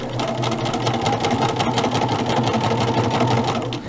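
A sewing machine runs steadily, stitching seams on a star quilt block, its fast, even mechanical whir close and continuous throughout with no talking.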